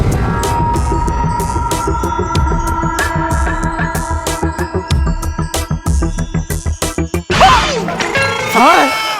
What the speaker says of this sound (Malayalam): എന്തിനാണ് സാറേ ആ കപ്പ് പൊട്ടിച്ചളഞ്ഞത്